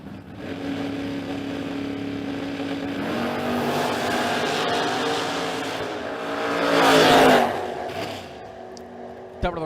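A pair of drag racing cars roar down the racetrack at a creek-side event, with a sustained loud engine drone that builds to a louder peak as they pass, then quickly fades.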